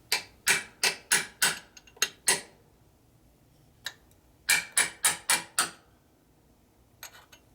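A punch and chisel tap on a lock tab on an S&S 113ci Evo motor's primary drive, sharp metallic strikes in two quick bursts of six, a lone hit, then a faint pair near the end.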